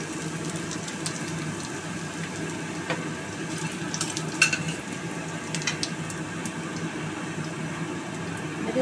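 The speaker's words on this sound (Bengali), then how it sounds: "এবার এতে আমি 4 কোয়া রসুন দিলাম, কুচিয়ে দিলাম" Four cloves of finely chopped garlic fry in smoking-hot oil for a spicy aar fish curry, producing a steady, even hiss that runs continuously at moderate level with a few faint clicks and no talking.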